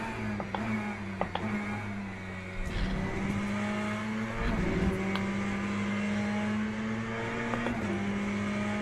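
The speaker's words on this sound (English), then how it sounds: "those LMPs come in really quick round that corner" LMP prototype race cars in the Le Mans Ultimate racing game sweep quickly through a corner at night, steady engine whine rising in pitch with a few passing surges and brief tire noise, fairly quiet overall.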